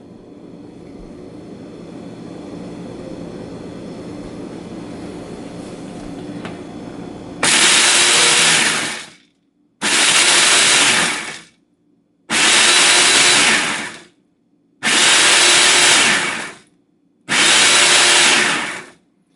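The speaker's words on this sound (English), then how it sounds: "Here's my 5-second warning before I start pulsing the food processor." A food processor pulses fig cake ingredients in five loud, evenly spaced bursts of about two seconds each, separated by short quiet gaps and preceded by low room hum.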